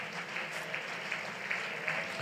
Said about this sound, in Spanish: Apláudale a Dios con libertad